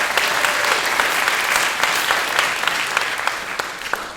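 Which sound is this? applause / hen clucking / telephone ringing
applause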